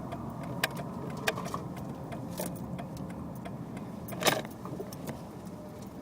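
Inside a car driving down the road, the engine and tyres give a low, steady rumble, while small keys jangle and click repeatedly, with a louder rattle near the end.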